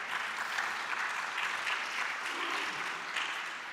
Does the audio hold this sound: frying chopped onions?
no